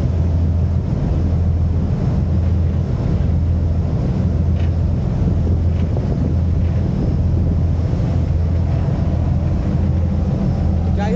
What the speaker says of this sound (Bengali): এইখান থেকে ইঞ্জিনের আওয়াজ প্রচুর